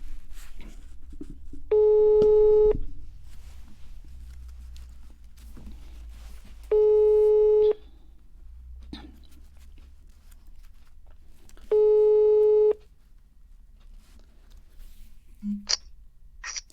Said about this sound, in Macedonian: Сега ќе го побараме во живо на телефон